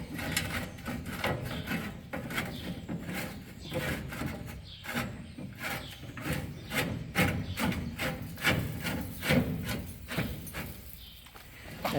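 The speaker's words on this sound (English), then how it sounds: "As he threads the tailings auger in, you can see it there pushing what weight was left in the combine out" Farm machinery grinds and rumbles steadily as a combine's tailings auger is threaded back in, pushing leftover material out, with irregular knocks and scraping throughout and faint talk now and then.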